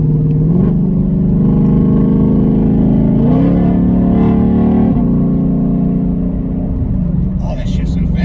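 A sports car accelerates hard through quick paddle-shifted gear changes, the loud engine note rising in steps with abrupt pitch drops at each shift, while people talk over the roar inside the cabin.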